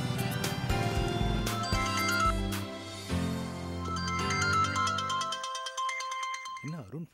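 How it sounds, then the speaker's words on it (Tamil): A phone ringtone melody plays loudly and repeatedly, its bright chiming tones filling the clip before a short warbling tone near the end. "என்ன அருண் ஃபோன் பண்றான்"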